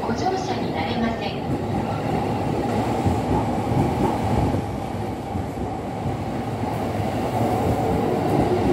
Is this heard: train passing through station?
yes